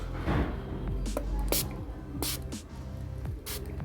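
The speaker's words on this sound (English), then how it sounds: "let's spray the cleaner and use the tissue paper to wipe it clean" Several short hissing bursts of cleaner sprayed onto a KTM 390 Adventure motorcycle's TFT screen at close range, spaced about a second apart, over a low steady hum.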